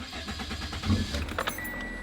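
Toyota car with 217,000 miles and a 4-cylinder engine, starting after a brief crank and settling into a steady idle, close by and fairly quiet with a faint jingle of keys.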